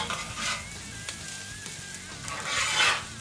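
Fried rice sizzling steadily in a pan, a continuous close frying hiss that swells slightly near the end, with faint stirring and no voices.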